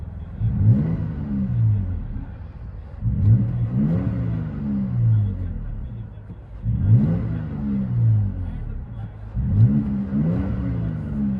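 Toyota Tacoma TRD Pro 3.5L V6 with a Borla Pro-XS single exhaust, heard from inside the cab, revs in four repeated deep, rumbling pulls that rise and fall about every three seconds, with no talking.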